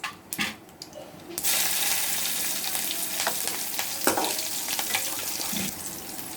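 Green chillies drop into hot oil for tempering, setting off a sudden loud, steady crackling sizzle that follows a few brief knocks and holds close and bright to the end.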